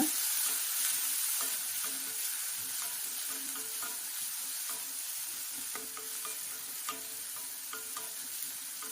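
Onions sautéing in a pan for keerai poriyal, a soft continuous sizzle with light scraping and occasional spoon taps on the pan.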